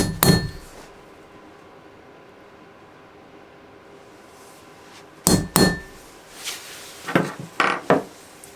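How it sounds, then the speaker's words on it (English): A quiet stretch of room noise, then sharp metallic strikes: a couple of loud hammer blows on a centre punch marking metal for drilling, followed by several lighter taps. "centre punching in the middle of those little boxes"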